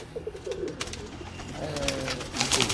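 A pigeon coos nearby in Sialkot, Pakistan, soft, throaty, rolling calls repeated a few times, with a faint rustle behind.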